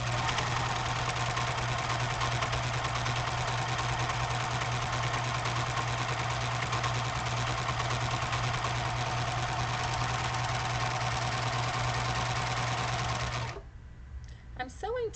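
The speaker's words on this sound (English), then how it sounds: "Let me stitch a sample for you and we'll take a look." A Janome 793 PG manual-threading serger runs a 4-thread stitch sample, giving a loud, steady, rapid mechanical whir for about thirteen seconds before stopping abruptly into near quiet.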